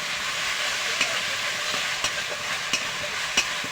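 Ginger paste and grated tomato sauté for chicken biryani, a constant close sizzle with a few sharp clicks of a spoon against the pan spaced through it, no talking.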